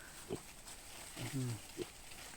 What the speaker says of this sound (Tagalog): Ayan yung mga layas na baboy.